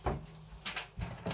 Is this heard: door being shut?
yes